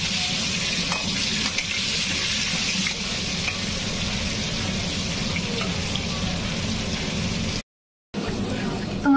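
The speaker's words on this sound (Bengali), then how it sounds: "এদিকে আমি মটনের জন্য আলুটি ভেজে নিচ্ছি" Potatoes frying with turmeric and salt for a mutton dish, a loud, steady sizzle and crackle of oil with stirring, continuous and close, briefly cutting out near the end.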